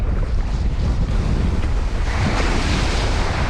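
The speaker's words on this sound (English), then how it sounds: "The waves are breaking" Ocean waves break over a sandbar on a night-time UK beach, a loud continuous wash of surf with wind rumbling against the microphone.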